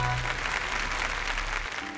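An audience at a televised archaeology lecture about the ancient city of Yecheng applauds to welcome a speaker onto the stage, with a steady wash of clapping that holds for the whole moment.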